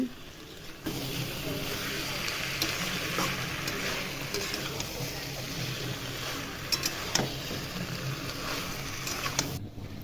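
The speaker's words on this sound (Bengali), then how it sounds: "এবারে কচুর লতিটা দিয়ে ভালোভাবে এখন ভেজে নেব তো চলো ভালোভাবে নেড়ে নিচ্ছি" Taro stolons (kochur loti) fried with prawns in spices in a pan, giving a steady close sizzle with scraping stirs throughout, and a voice speaking over the cooking.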